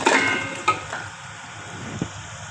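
Boiled mutton trotters are stirred and fried in an onion and spice masala, giving a sizzle with scraping strokes and a few sharp clinks of a spoon against the pot, close and fairly loud.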